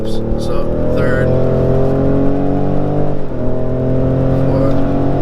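A 2019 Ford F-150 Raptor engine pulling hard through upshifts, a loud steady drone rising in pitch, briefly dipping at a gear change around the middle, then climbing again, heard from inside the cab with a voice talking over it.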